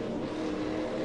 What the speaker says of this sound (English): Yeah, listen to that engine now.